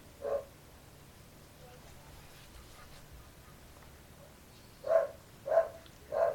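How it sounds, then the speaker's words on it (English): A dog barks indoors, one bark early and then three spaced barks near the end, fairly close and distinct over a quiet background. "Sorry about the dogs."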